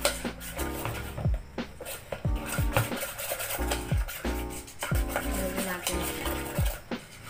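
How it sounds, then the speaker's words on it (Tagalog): A spoon stirs a thick homemade gumpaste mixture in a bowl, scraping and knocking against the sides in steady, repeated strokes, with someone speaking briefly over the work. "haluin muna natin siya hanggang sa mag-dry siya yung parang tumigas"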